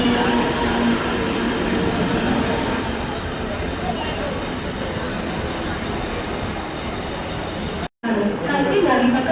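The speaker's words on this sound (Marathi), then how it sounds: "माझी ट्रेन तर लागली" A train arrives at a station with a loud, steady rumble and roar that carries on throughout, broken by a brief dropout near the end. Voices talk over it.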